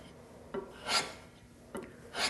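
A honing stone rubs along a jointer/planer knife in a few separate rasping strokes, each a short gritty scrape, close up and fairly quiet with pauses between them.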